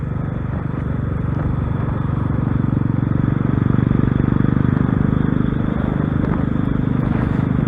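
A Royal Enfield 500 motorcycle on a ride gives off a loud, steady, low engine drone with rumbling road and wind noise, holding constant throughout.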